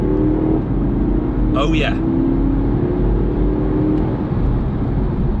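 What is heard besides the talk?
Porsche Panamera 4S accelerating under full throttle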